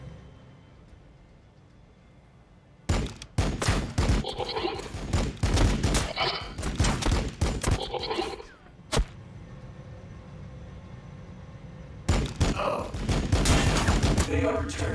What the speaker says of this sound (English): They are returning fire.